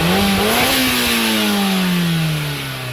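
A Ford Model A engine revs up close, its pitch rising then easing back down as the throttle settles, loud and continuous with no talk.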